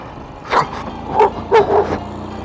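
A large dog barks several times in short, loud bursts at a moderate distance, with outdoor background noise between the barks.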